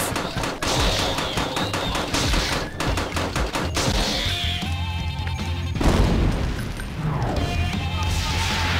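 Turrets firing in the video game Commando Jack: dense rapid bursts of gunfire and crashing impacts, loud and continuous, over game music and electronic tones.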